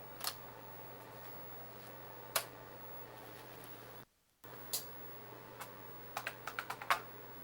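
Keys on an IBM 7496 Executive Workstation computer keyboard click as Control and Delete are pressed: a few sparse, sharp taps, then a quick burst of clacks near the end over a low, steady background hum.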